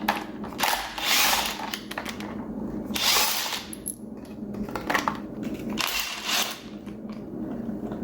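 Cordless drill or driver spinning out 10 mm bolts from the plastic timing belt cover on a Mazda Miata 1.8 engine during teardown, three separate whirring bursts with pauses between, close up.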